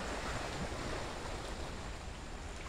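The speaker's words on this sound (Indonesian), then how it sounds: "deburan ombak" Waves break on a beach at Tanjung Lapin on Rupat Island, a soft steady wash of surf and wind with no talk, fairly faint and continuous.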